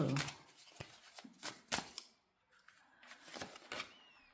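Tarot cards are shuffled by hand at close range in soft, uneven riffles and flicks, with brief pauses between bursts.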